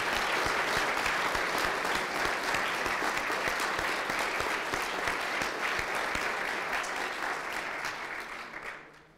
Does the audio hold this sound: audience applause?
yes